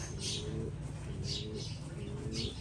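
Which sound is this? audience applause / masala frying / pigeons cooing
pigeons cooing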